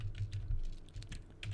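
Fingers type code on a computer keyboard in short, quick bursts of close, clicky keystrokes with a brief pause in the middle, and no talk over them.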